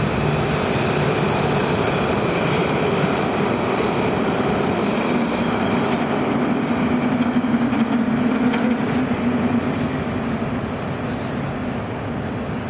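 A tram in Nice rolls along its rails, giving a steady, continuous rumble and hiss with faint rhythmic rail noise throughout, fairly close and without any voices.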